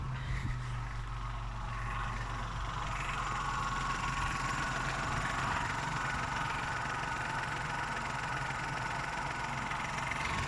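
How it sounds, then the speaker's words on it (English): A Vauxhall Corsa with an Ecotec petrol engine idles steadily for the whole stretch, a constant low engine hum and drone with a faint chattering timing chain, close by and with no talking. "So we'll start her up and you can hear the timing chain."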